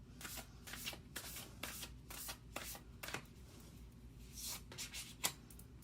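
Tarot cards are shuffled by hand close up, a soft, continuous riffling and sliding with light flicks and taps, quiet and with no talking.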